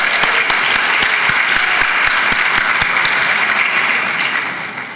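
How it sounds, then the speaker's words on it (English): A university celebration crowd applauds a dragon and lion dance team with steady, full clapping that holds evenly before tapering slightly at the close. "Let's give them another round of applause."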